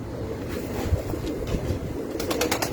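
Pigeons coo softly on a rooftop loft, low repeated murmuring under the ambient noise, with a few flutters and sharper clicks near the end.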